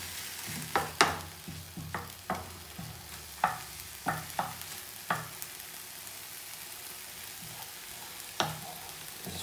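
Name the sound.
garlic frying in a pan for bolognese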